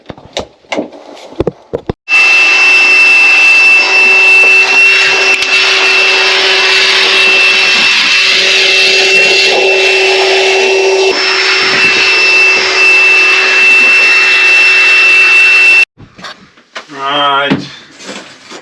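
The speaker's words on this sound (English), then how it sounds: "I'll try a new hoover" A battery-powered hoover runs inside a DIY sailing boat build, giving a loud, steady whirring drone for about fourteen seconds that starts and stops abruptly, with brief voices and handling noises before and after.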